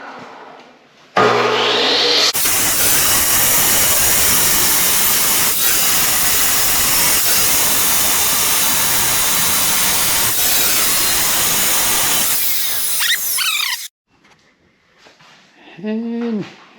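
Cutting down the pieces of a Ford 9 inch rear end in a shop: a loud, harsh, steady grinding hiss of a cutting wheel running for about ten seconds before it spins down, with brief voices afterward.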